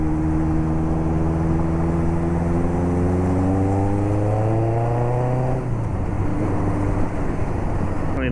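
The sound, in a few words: motorcycle accelerating as the rider lets out the clutch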